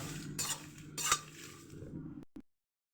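A spoon scrapes and stirs chillies, curry leaves and cumin roasting in a pan with soft sizzling, a couple of sharper clinks, then it stops abruptly.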